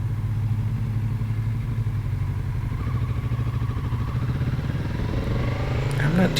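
A 2024 Kawasaki Z650RS being ridden through a downtown area in autumn, a steady close engine drone with a rumbling low tone and a rising rev near the end, no spoken words.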